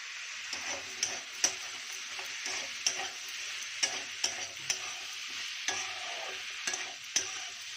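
Spring onions sizzle steadily in a hot pan over high gas flame while a utensil scrapes and taps through them in an irregular stirring rhythm, close and without voices.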